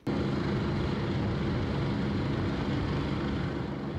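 A rescue helicopter hovering over the Guayllabamba River, a steady loud rotor and engine drone with rushing noise running unbroken throughout, no voices.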